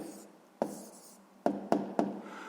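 A pen writes a math answer on paper, with a soft scratching stroke and a few sharp taps as it touches down, close and quiet, no talk.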